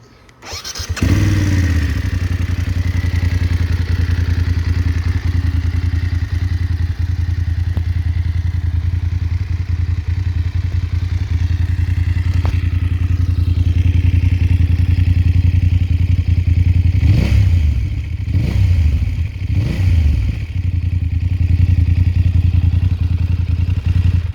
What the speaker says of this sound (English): the bike fires right up, runs nice and smooth